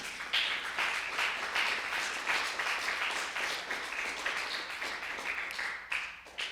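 A church congregation breaks into steady, dense applause during a Spanish-language sermon in a Christian service, many hands clapping together at moderate distance for several seconds with no talking over it.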